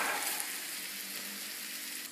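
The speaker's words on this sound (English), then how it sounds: "And into the frying pan we go." Cod coated in whole grain rye flour sizzles in a frying pan, making a steady, close crackling hiss that stays even throughout, with no voices.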